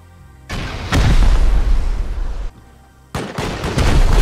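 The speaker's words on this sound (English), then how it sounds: "I'm gonna rocket this." Rocket launcher blasts in Rust, with two loud booming bursts a few seconds apart, each followed by a rumbling roar, close and forceful with no talking.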